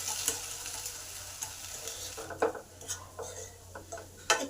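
A spoon mixes mashed onion stalks for peyajkoli vorta in a pan, giving soft scraping and clinking strokes in an uneven rhythm over a low sizzle, close and fairly loud.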